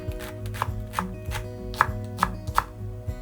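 A knife slices the green part of a spring onion on a cutting board, giving a series of crisp, close thuds at a slightly irregular pace, roughly one every half second.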